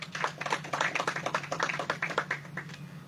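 Applause from an audience for officials at a local gathering, a brief burst of scattered hand clapping, fairly close and moderately loud, with no talking over it.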